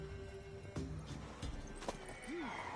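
A mare in The Witcher 3 whinnies once with a rising-falling neigh near the end, after hoof clip-clops and shuffling, against a steady low game ambience.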